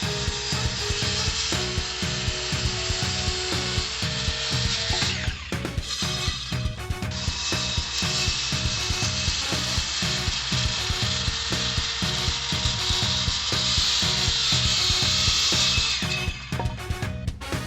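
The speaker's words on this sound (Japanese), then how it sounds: "2x4 材を切ってみましょう。" A 2x4 softwood board is cut with a hand saw, and steady rhythmic rasping strokes run close and loud for the whole stretch, broken only by a brief pause partway through.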